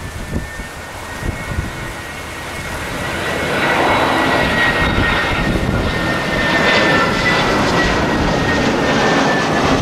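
An Edelweiss airliner landing at Madeira airport in strong wind: a loud, steady jet-engine roar that swells and stays close and heavy, with no voices.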